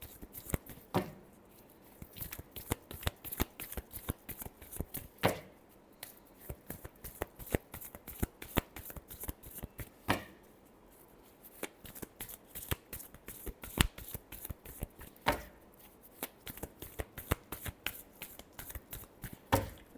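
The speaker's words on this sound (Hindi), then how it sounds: "Last shuffle." A deck of tarot cards shuffled by hand over and over, a dense run of quick papery flicks and taps with sharper snaps every few seconds, close and fairly quiet with no talk.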